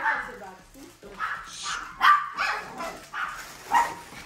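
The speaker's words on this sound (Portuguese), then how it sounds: "Deu a louca nos cachorros." Several dogs bark and yip excitedly indoors during a birthday present opening, repeated sharp close barks with a few whimpers, mixed with people talking.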